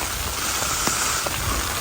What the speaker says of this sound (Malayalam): ഇതുപോലൊരു മഴ കേട്ടിട്ടില്ല